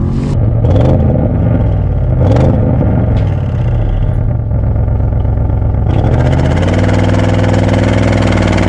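A 2021 Audi RS6 Avant engine idles loudly up close at a standstill, blipped with a few sharp revs, then held in a long, rising roar.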